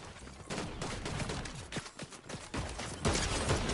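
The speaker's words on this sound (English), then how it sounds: "the double shotgun shots here from Madden and Liam" Rapid shotgun blasts in a Fortnite match, a dense burst of sharp overlapping shots and mechanical clatter at moderate loudness, with no voices.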